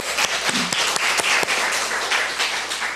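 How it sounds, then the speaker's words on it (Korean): A church congregation applauds during a Sunday worship service, a loud, dense wash of many hands clapping together that holds steady for the full few seconds. "우리 하나님 앞에 영광의 박수 올려드리십시오"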